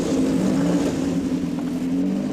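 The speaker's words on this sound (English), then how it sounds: "The engine is from a Vauxhall Astra." Vauxhall Astra engine in a clubman racing car, factory sealed and untuned, drones in a steady loud rev throughout, a strong low hum with no voices over it.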